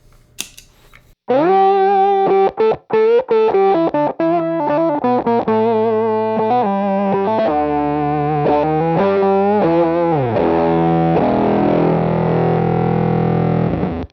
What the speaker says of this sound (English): So this is the bass sound of the Microsynth.